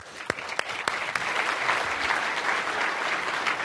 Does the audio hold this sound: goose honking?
no